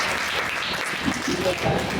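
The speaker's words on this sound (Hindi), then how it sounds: "तालियां बजाइए उसके लिए" Audience clapping at a center opening with a live speed-reading demo, a short burst of applause blended with talking voices over it.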